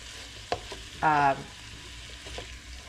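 Ground pork stir fry sizzles in a hot pan while being stirred, with a short louder scraping burst of mixing over a steady low fry hiss.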